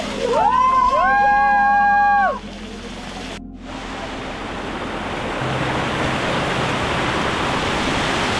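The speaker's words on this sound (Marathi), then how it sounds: "पाऊस वाढला इथं, म्हणजे भरपूर पाऊस वाढलाय" Heavy monsoon rain pours on a trek trail up to Visapur Fort, a loud, dense and continuous hiss that builds after a person speaks briefly at the start.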